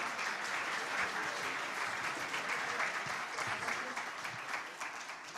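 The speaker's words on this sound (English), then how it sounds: "Big round of applause, please" An audience at a startup awards evening gives a big round of applause, a dense, steady wash of clapping that fills the hall and fades slightly toward the end.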